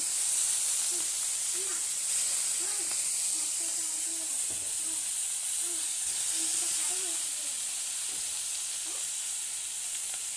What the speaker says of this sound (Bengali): দেখুন মাছটি ভেজে নিচ্ছি